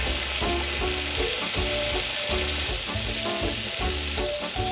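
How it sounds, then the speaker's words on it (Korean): Halved bacon strips fry in a pan over low heat, a continuous close crackling sizzle with soft stirring sounds, no talking. "약불에서 베이컨 구워줍니다."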